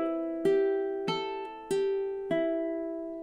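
Ukulele fingerpicked alone in the opening measure of a Hawaiian song, four clear plucked notes evenly spaced, each ringing and decaying into the next, close and moderately loud.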